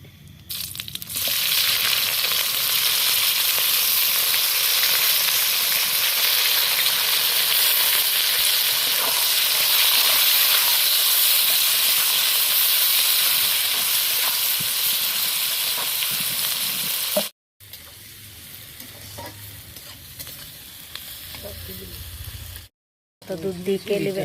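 Loud, steady sizzling and crackling of onions and green chilies frying in hot oil, continuous for most of the clip, with a few brief cutoffs near the end.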